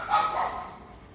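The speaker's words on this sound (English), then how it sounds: "That's the dog that live here." A dog barks briefly outdoors, a short close yelp-like bark or two fading into background noise, while another dog is in heat nearby.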